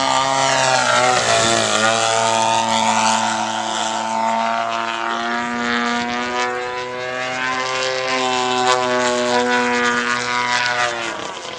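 A gas-powered RC aerobatic airplane flies snap rolls and point rolls, its engine buzzing loud and close with a strong harmonic whine that dips and climbs sharply as throttle and attitude change.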